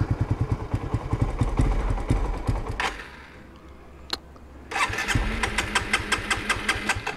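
A Suzuki GSX-R motorcycle running low on fuel idles loudly up close, cuts out into near silence, then is restarted and settles back into a steady, throbbing idle.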